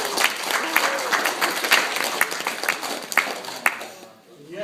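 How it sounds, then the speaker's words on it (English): Guests at a wedding reception applauding during a best man speech, a dense burst of clapping that carries on for several seconds before tapering off near the end. "So give yourselves a round of applause."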